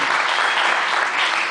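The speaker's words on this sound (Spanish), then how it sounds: "un aplauso también para él que va" Brief burst of dense clapping from an audience at a conference in Bogotá, loud and continuous for under two seconds.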